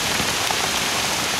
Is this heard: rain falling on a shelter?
yes